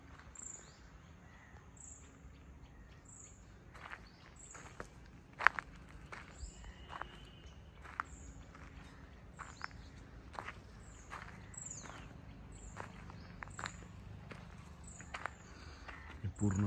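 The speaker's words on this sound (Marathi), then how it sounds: "तुम्ही फक्त आता पक्ष्यांचे आवाज ऐका." Morning birdsong in a dense forest around seven o'clock: one bird repeats short high chirps at a steady pace, faint and distant, while nearby footsteps and rustling sound closer.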